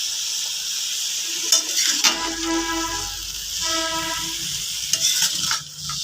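Food sizzles steadily in a hot frying pan while making cabbage pakoras at home, with scraping stirs and occasional clinks of a utensil against the pan, close and fairly loud, without voices.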